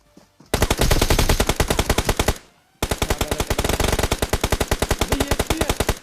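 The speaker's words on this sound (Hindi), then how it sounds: "देखो एक एक स्प्रे में इसने मुझे और स्पाइडर को नॉक कर दिया।" Loud, rapid machine-gun sprays fire in a shooter video game: a long burst of evenly spaced shots, a short pause, then a second long burst, all close and dominant with no talking.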